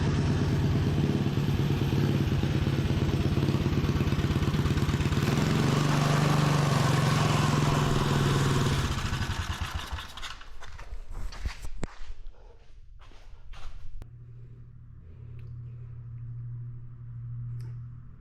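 A homemade chopper mini bike's small engine runs loud and rattling, then cuts out around the ten-second mark, leaving scattered clanks, footsteps and a low hum in the quieter remainder.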